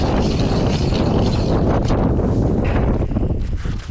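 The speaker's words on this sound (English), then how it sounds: "It's super windy today." Strong wind roars and buffets the microphone continuously on a frozen lake in deep snow, a loud rushing blast that eases slightly near the end.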